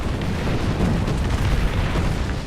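A mortar explosion in the War Thunder video game, heard as a dense, rumbling blast that holds steady and loud for the whole few seconds without a sharp single crack.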